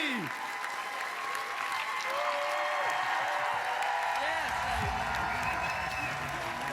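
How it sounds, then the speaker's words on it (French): A studio audience at a Quebec variety show applauds the evening's guests, steady dense clapping with some cheering that swells and holds loud throughout, with a voice talking over it. "On applaudit nos invités de ce soir."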